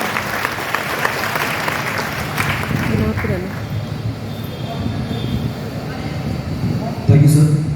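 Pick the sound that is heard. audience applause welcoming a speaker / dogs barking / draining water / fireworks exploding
audience applause welcoming a speaker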